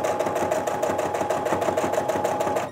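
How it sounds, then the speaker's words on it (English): A home sewing machine runs steadily at an even speed while quilting with rulers, its rapid needle stitching producing a fast, regular chatter, close and continuous. "you want to get the sewing machine going at a specific speed."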